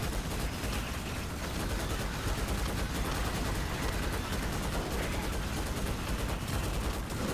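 Continuous rapid gunfire from the Starship Troopers: Extermination game as troopers fire on swarming bugs inside their base, a dense nonstop barrage with a voice now and then under the shooting.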